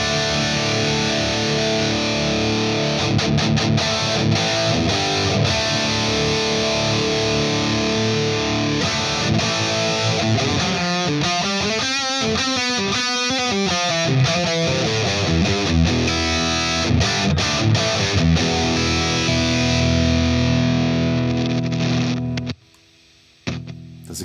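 A distorted electric guitar runs through a Neural DSP Quad Cortex amp model with a ribbon mic sim, playing a continuous dense riff with swelling, phasey sustained notes before stopping abruptly.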